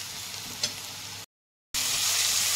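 Chopped tomatoes hit a pan of golden-browned onions, giving a steady sizzle with a brief stirring scrape, then a short cut to silence before louder frying resumes.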